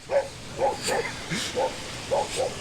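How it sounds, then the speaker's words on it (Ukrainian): A dog on a sandy beach in Durrës, Albania, barks about seven times in short, spaced yips, close and fairly loud. A person talks faintly in the background. "Собакін відволік мене трохи від пляжу."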